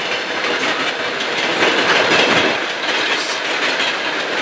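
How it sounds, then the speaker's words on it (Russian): Electric commuter train rolling past on a railway by the Black River in Saint Petersburg, a loud, continuous rumble and rush with clickety-clack wheel rhythm and a brief squeal, close by and without speech. "здесь вот железнодорожные поезда проходят"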